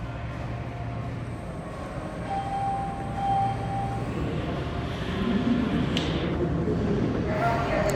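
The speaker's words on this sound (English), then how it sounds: "That's our train, right there." DC Metro train arriving at L'Enfant Plaza station, a steady low rumble and rolling noise swelling gradually over several seconds, with a brief high squeal near the end.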